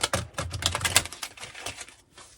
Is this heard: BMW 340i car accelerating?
no